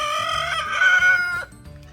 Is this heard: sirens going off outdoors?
no